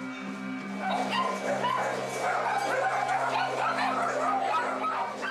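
Several dogs kept in a house kitchen bark, yip and whimper continuously at close range, their overlapping cries layered over a low hum, with a voice briefly speaking among them.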